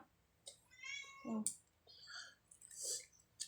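A cat meows softly a couple of times at a lunchtime meal, with small clicks and chewing-like sounds around it in a quiet room.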